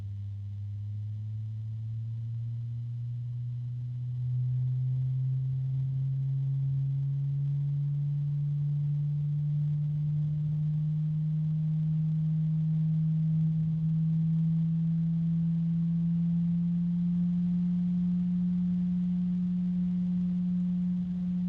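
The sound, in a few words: fluid dynamic bearing fan humming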